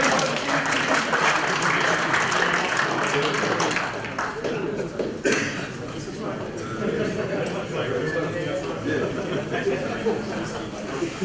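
Applause from a coaching-session audience, brisk clapping that carries throughout, mixed with overlapping chatter and voices in the room.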